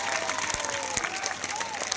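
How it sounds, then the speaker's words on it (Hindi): A crowd at a political gathering claps loudly to welcome Vasundhara Raje, a continuous burst of applause with a faint tone and a murmur of crowd underneath. "वसुंधरा राजे जी का जोरदार ताली बजाकर अभिनंदन करें"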